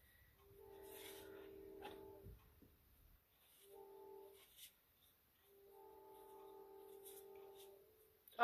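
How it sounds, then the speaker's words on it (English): A train passing at 5 o'clock in the morning, heard from a distance: sustained horn blasts sound in three separate stretches over a faint rolling rumble, with quiet gaps between them. "here comes a train."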